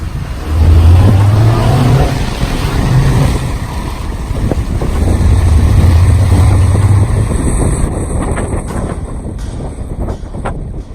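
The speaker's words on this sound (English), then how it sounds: "Fit the air filter and we're gonna do some drive-bys and see how it sounds" Renault Clio Mk2 fitted with a K&N air filter driving past and revving, a loud, close, buffeting engine roar with wind noise on the microphone that swells and then fades, no talking.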